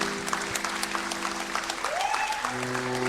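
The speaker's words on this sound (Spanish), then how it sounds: "Que continúe el aplauso para los muchachos, para los músicos" An audience applauds a Guaraní folk group at a radio station's chamamé concert, with dense, steady clapping throughout as a voice speaks over it.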